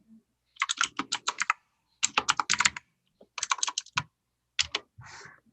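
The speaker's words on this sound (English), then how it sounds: "Somebody's typing." Someone types on a computer keyboard during an online group meeting, with close, crisp keystrokes coming in quick clusters of rapid clicks separated by short pauses.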